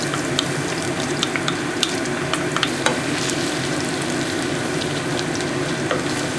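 Minced garlic, six cloves, sizzles in melted butter and oil in a pan turned down to medium heat: a steady, dense frying hiss with scattered crackles and pops, close and continuous, with no one speaking.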